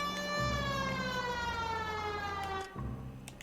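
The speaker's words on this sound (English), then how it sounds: "Why aren't you using the siren?" Police car siren in the L.A. Noire video game, a loud wailing tone sweeping steadily downward, cut briefly and restarting near the end over a low engine rumble; no talk.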